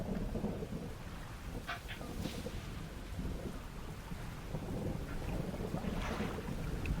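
Rain and a low, rolling rumble of thunder fill a night scene in a fishing video game, a dense wash of noise with wind and a few brief brighter splashes, steady and fairly faint.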